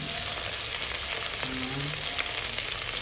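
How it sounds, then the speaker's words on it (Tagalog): Ingredients sautéing in hot oil for chicken tinola, a steady, dense sizzle with faint stirring clicks, continuous and fairly quiet. "Habang sinusutay natin."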